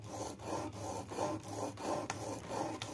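A woodworking chisel is rubbed back and forth on sandpaper to sharpen it, giving steady, close rasping strokes at about three per second, quiet and with no talking.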